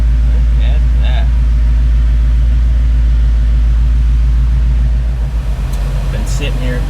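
A 1966 Ford Mustang convertible sits idling with the air conditioning running, a steady low rumble that holds evenly throughout while people talk over it.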